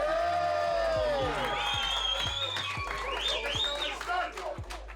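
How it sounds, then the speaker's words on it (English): A crowd at a homecoming celebration for UFC middleweight champion Dricus du Plessis applauds and cheers loudly, with whoops rising over steady clapping, while low music and a voice carry underneath. "Can we have a round of applause for our new world?"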